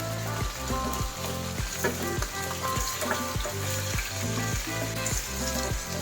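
Pork sautés with onion, garlic and black pepper in a hot pan, giving a dense, constant sizzle and a steady rhythm of stirring scrapes about twice a second, close up with no speech.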